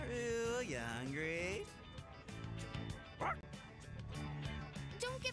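A dog barks and whimpers in Persona 3 Reload, yips and whines mixed with game music and character voices talking over it.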